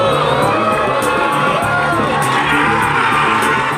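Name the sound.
crowd cheering at a pod launch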